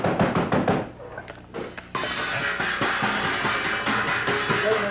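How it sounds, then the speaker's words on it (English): Knocking on a door during a 1977 Chicago television talk show, a few sharp raps heard over lively studio background sound and music. "knock on door."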